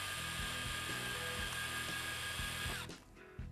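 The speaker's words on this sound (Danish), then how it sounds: "Når man borer med et trinbor, så er det en god idé lige at tage fra bagsiden bagefter." A step drill bores into acrylic plexiglass with a steady, loud whining grind and rhythmic low chatter, then cuts off abruptly near the end, leaving a brief quieter tail.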